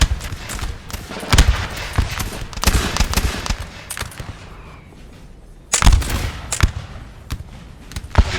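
Musket volleys from line infantry crack out in Napoleon Total War, sharp sudden bursts arriving in irregular clusters, some ragged and overlapping, others spaced apart, with distant battle rumble filling the gaps.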